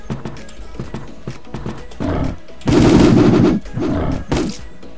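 Video-game gunfire during a tense multiplayer fight, rapid automatic bursts loud and close, with a heavy burst in the middle and shorter volleys around it, mixed with clattering game effects.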